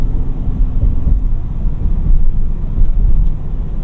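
A 2025 Ford Expedition Tremor with the high-output engine, heard as a continuous low rumble during driving, loud and steady with wind buffeting over it and no talk.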